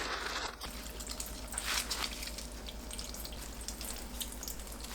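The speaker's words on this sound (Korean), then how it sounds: "두부 물기를 짭니다." Water drips and trickles as tofu is squeezed by hand in a kitchen while making dumplings, heard as a soft, continuous wet splashing, close and fairly quiet, with no talking.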